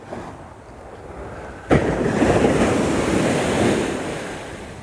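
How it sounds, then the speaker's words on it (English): Ocean surf building and breaking on a beach during surf fishing, a loud wave crash arriving suddenly partway through, then a sustained roar of washing water mixed with wind buffeting the microphone. "there's some waves building here"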